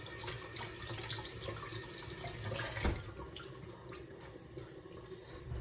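Tap water runs steadily into a kitchen sink while eggplants are washed, a continuous hissing splash with one brief louder knock partway through and no talking.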